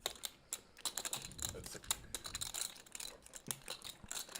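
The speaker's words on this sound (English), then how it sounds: "you're allowed to shuffle your chips on somebody else's cards" Clay poker chips shuffled at a high-stakes poker game, a dense run of quick clicking and clattering taps close by, steady throughout with no talk.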